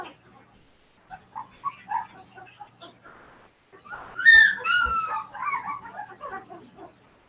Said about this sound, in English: I gotta let my dog back in the house.